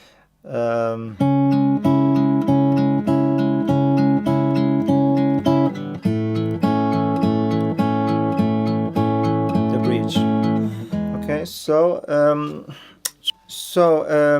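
Acoustic guitar strums a repeating chord pattern from a song, steady and close for most of the passage, then breaks into looser, sparser strums and a few scattered notes near the end.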